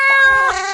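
A loud, drawn-out tonal cat meow from a Jackbox party game, close and clear with no talk over it.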